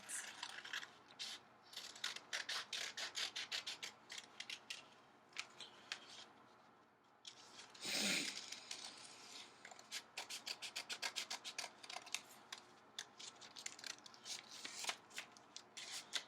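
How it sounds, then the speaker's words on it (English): Scissors snip through paper in quick, crisp bursts of cutting, repeated rhythmically with a brief rustle partway through, close and fairly quiet. "So then I'll take my scissors and I'm going to cut out my traced hands."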